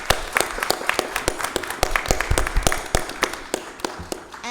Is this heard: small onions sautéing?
no